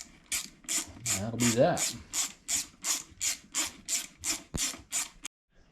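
Steady rhythmic clicking of a ratchet snugging down bolts during LB7 Duramax diesel injector installation, about a dozen even strokes close up, with a brief spoken remark partway through.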